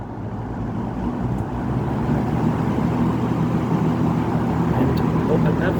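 A 1983 Lakewood P-223 box fan runs on high speed, giving a steady, loud broadband whoosh with a low hum, constant throughout and close by.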